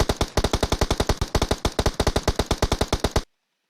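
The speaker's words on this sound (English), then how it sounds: "And there's the gunfire." Rapid automatic gunfire from a video game scrim match, a loud steady burst of about thirty evenly spaced shots over three seconds, then sudden silence.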